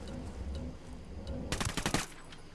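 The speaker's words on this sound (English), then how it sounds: "Plan is shoot them" A short burst of gunfire in Ghost Recon Wildlands, erupting suddenly after a quiet stretch of low background ambience, several quick close shots clustered together before fading.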